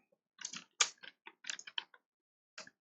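Quick bursts of clicking keystrokes on a computer keyboard while code is being typed, a short cluster of taps followed by a pause and one final key press, close and fairly quiet.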